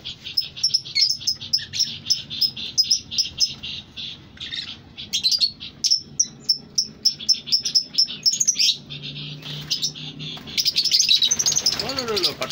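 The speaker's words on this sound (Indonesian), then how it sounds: "Tuh, burungnya. Burungnya ramai ya." Caged birds in an aviary chirping busily, a dense run of sharp, high tweets repeating close by, with a brief voice in the background.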